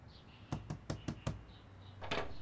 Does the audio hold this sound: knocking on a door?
yes